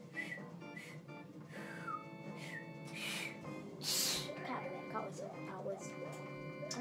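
A person tries to whistle by drawing air inwards, producing a string of short, breathy, wavering whistle tones and squeaks with gasps between them, close to the microphone.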